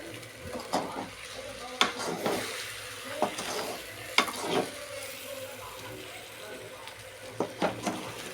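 Drumstick curry tempering sizzles softly in a pan while a spoon scrapes and stirs in several distinct strokes, the frying hiss staying low and close throughout.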